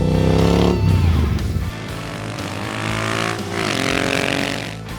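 A Royal Enfield Continental GT Cup GT-R650 race motorcycle roars past up close, its loud engine note shifting in pitch as it revs and changes gear, then building again as it accelerates.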